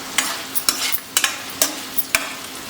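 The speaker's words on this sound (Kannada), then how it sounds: "ಈ ಕುಂಬಳಕಾಯಿನ ಫ್ರೈ ಮಾಡ್ಕೊಳ್ಳೋವಾಗಲೇ ಸ್ವಲ್ಪ ಉಪ್ಪು ಹಾಕ್ಬಿಟ್ಟು ಫ್ರೈ ಮಾಡ್ಕೊಳ್ಳೋಣ" Ash gourd pieces fry with salt in a pan for a buttermilk curry, several scraping stirs striking at a loose rhythm over a gentle sizzle, close and clear, with no talking.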